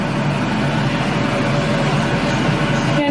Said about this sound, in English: Apologize for that noise. That is the fan. We need the fan.